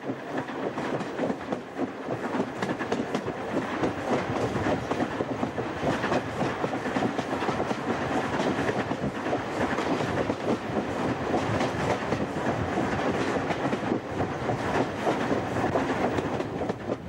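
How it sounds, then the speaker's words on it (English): A Gloucestershire auto train rumbles steadily along the rails toward Sharpness, a continuous close clatter of wheels lasting throughout with no voices. "passengers changed to the auto train bound for Sharpness 4 miles away"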